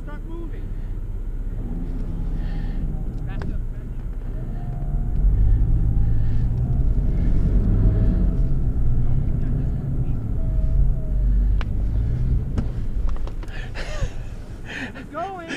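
Car reversing over rough, rocky ground on a rabbit hunting trip, its engine a low steady rumble that swells partway through, with people talking over it throughout.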